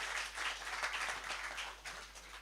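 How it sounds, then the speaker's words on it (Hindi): Audience applause at a mushaira poetry gathering in Jaora, Madhya Pradesh, a dense wash of clapping from many hands that holds steady throughout before easing slightly at the end. "इस तमाम महफिल के लिए जो ज़ोरदार तालियां आनी चाहिए मोहतरम नादिर शाह साहब के लिए"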